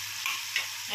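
Spices fry in an uncovered pan over a medium flame, a dense steady sizzle close by with a couple of soft scraping stirs, no talking.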